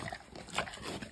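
A pig on a farm in Croatia being handed pears gives faint, low grunts and snuffles against a steady hiss of outdoor background noise.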